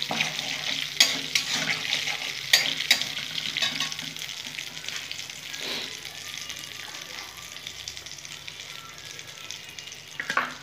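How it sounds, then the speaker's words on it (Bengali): Bay leaf, cinnamon, cardamom and cloves tempering in hot oil give a steady, close sizzle and crackle, with a few sharp clicks of stirring and no voices. "তেজপাতা, দারচিনি, এলাচ, লবঙ্গ ফোড়নে দিয়ে দিলাম।"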